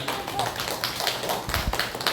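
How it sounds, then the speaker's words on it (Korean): A church congregation at a Korean Sunday worship service gives a short burst of rapid, close hand clapping, crisp individual claps blending into a brief ragged patter. "자, 하나님께 박수를 드리겠습니다."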